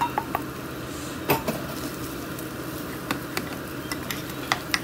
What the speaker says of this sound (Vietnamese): Rồi cho luôn cái tô cơm nguội vô đây, chiên luôn.